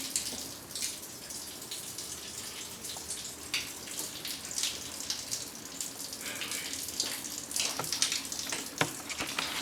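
Water runs and trickles through the drainage system of an old mill, a steady broadband wash with scattered drips and splashes, fairly close and continuous, with no talk over it.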